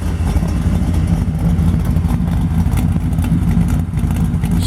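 The engine of a 1955 Chevrolet Bel Air two-door hardtop resto mod runs close by, a loud, steady low rumble at idle with slight revving pulses throughout.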